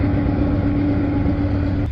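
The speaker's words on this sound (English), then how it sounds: "Go ahead, truck, make all the noise you want to." A truck rumbles past at night near a rail line in Creighton, Pennsylvania, a steady low engine drone with a faint hum, fairly close and alone for under two seconds.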